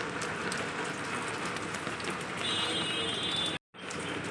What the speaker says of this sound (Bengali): দেখো কেমন বৃষ্টি